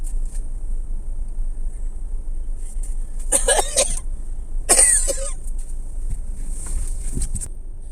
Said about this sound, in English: after I eat, I cough a lot for some reason